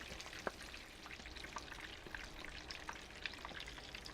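Smoked buffalo-style chicken wings in their second fry in hot oil give a faint, even bubbling crackle with occasional sharper pops, heard alone at a low level.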